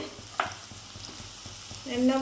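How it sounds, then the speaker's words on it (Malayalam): Cauliflower for dry gobi manchurian fries quietly in hot oil, a low crackle with a brief clatter early on, then a stronger sizzle swelling near the end. "നമ്മൾ ഇത് വറുത്ത് കോരിയെടുക്കുകയാണ്."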